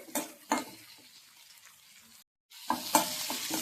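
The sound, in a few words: sautéing and stirring with salt in a pan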